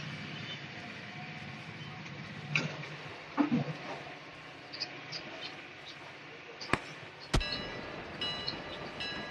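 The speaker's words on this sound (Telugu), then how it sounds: "ఓ ట్రైన్ పోతాను గాయస్, చూడండి" A faint, steady train rumble passes in the background in the video game BGMI (Battlegrounds Mobile India), joined by a few sharp clicks near the end.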